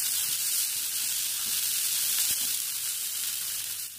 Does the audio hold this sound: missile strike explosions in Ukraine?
no